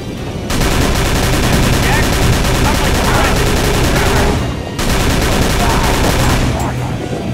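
Tommy gun firing in the Call of Cthulhu video game: loud, sustained automatic bursts running for several seconds, a brief pause, then another long burst, with no talk over it.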